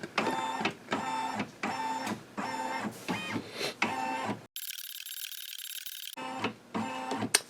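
A Brother Quattro embroidery machine scanning with its built-in camera makes repeated short mechanical whirring bursts in a steady rhythm, then a longer high electronic whine before the bursts resume, close and fairly quiet.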